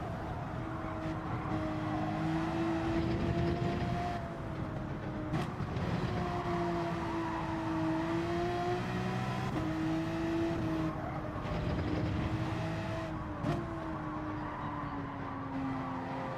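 A racing car engine in Gran Turismo 7 drones steadily through a Manufacturers Cup lap, with long, even tones that bend in pitch through shifts and corners, moderately loud and continuous with no voices.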